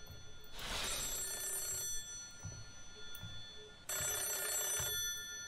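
Telephone ringing in a horror video game, two long bell rings with a quiet pause between, set over a low dark background hum.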